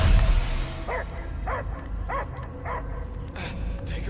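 A dog barking in the Guardians of the Galaxy video game, a steady series of evenly spaced barks, about one every half second, over a dense rumbling game soundscape.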